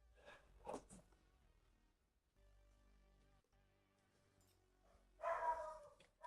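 A dog barks at a microsoldering bench during a repair of a shorted RTX 3090 graphics card, with two fairly faint bursts, one near the start and one toward the end, and quiet room noise between them.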